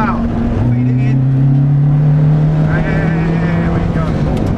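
A Ferrari F430 engine pulling hard on a race track, a loud, steady high-revving drone rising slightly in pitch, heard from inside the car while someone talks over it.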